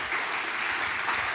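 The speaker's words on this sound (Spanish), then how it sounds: "Ahí va el aplauso para el Señor." A church congregation bursts into applause for the Lord during a sermon, a continuous, even roar of many people clapping together, fairly loud and without any voices on top.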